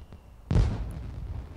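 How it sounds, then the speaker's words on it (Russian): Blue and green firework in The Sims 4, fired on a cocktail bar rooftop: a faint pop, then one sharp, loud burst with a booming low thud that fades into a rumbling tail. "Крутой, кстати, фейерверк. И синий, и зеленый."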